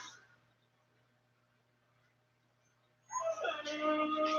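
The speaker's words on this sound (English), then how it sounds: "I had to go let the dog in." A dog whimpers and yips at a door after a few seconds of quiet room tone, its high whining cries fairly close and rising suddenly to a loud, sustained burst.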